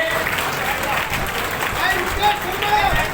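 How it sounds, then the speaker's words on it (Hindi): A crowd at a BJP political rally on a Ramlila ground applauding together in steady, dense clapping that carries loudly through the whole stretch, with voices and crowd noise mixed in. "एक बार जोरदार तालियों से हम सभी लोग आदरणीय मंत्री जी का स्वागत करेंगे।"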